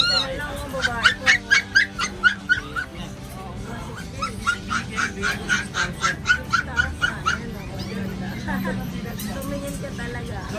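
Chow Chow and Pomeranian mix puppies at a busy Manila pet market yip and bark in quick repeated bursts, fairly close, amid crowd babble and vendors talking.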